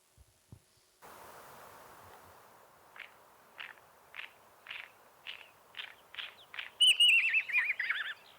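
Song of an Isabelline wheatear in Mongolia: after a quiet opening, a steady series of short, evenly spaced chirping phrases builds to a louder, richer warbling burst at the end, heard alone in open air.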